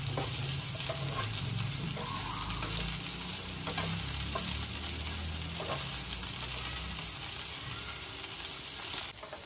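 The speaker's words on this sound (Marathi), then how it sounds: "त्याचा पूर्ण चिकटपणा जाईपर्यंत, थोडीशी गोल्डन ब्राउन होईपर्यंत तिला परतायचं आहे" Okra pieces stir-fry in hot oil in a pan, giving a continuous close sizzle with the scrape of a spatula stirring throughout, no talking.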